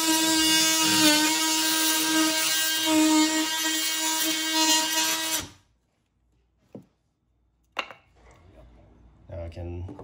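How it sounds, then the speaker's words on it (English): An oscillating multi-tool cuts into drywall with a loud, steady buzzing whine for about five seconds, then stops abruptly, leaving near silence broken by a few faint knocks and brief speech. "I like to use my favorite tool in the world, this oscillating tool"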